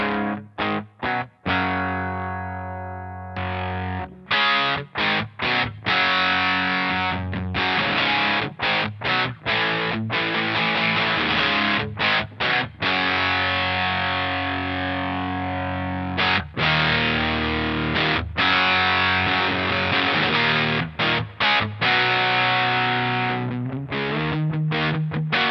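Electric guitar in drop D tuning runs through a DOD/Digitech distortion pedal, heavily overdriven like a broken-up tube amp, with loud chugging riffs, repeated sharp stops and sustained crunchy chords throughout.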